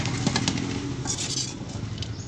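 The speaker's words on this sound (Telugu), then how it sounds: "ఇప్పుడు పులిహోరని సర్వింగ్ బౌల్లోకి సర్వ్ చేసుకున్నాం" Pulihora tamarind rice being spooned into a serving bowl, with steady close scraping and soft clinks of a utensil against the dish throughout, and no voices.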